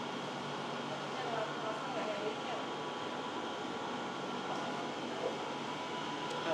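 A train rides near Vivo City Station in Singapore toward Sentosa, with a continuous low rumble and airy hum from inside the carriage, steady and moderately quiet throughout.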